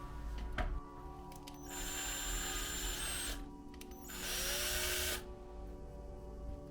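A power drill widens holes in a plastic universal adjustable motorcycle windscreen, whining in two sustained bursts of a few seconds each with a short pause between, fairly close and with no talk.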